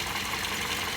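Engine of a Toyota Vios Limo, second generation ex-taxi, idling smoothly with the air conditioning off, a steady, even hum throughout.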